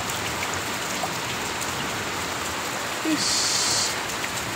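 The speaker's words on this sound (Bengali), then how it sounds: "আর কি জোরে যে বৃষ্টি হচ্ছে।" Heavy rain pouring down outdoors onto a tarpaulin and pooled water, a dense, even roar of drops that continues throughout, with one brief spoken exclamation.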